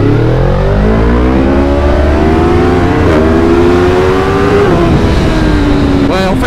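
A 2023 BMW M1000R motorcycle accelerates hard, its engine note climbing steadily in pitch with sharp dips at each gear change, loud and close throughout.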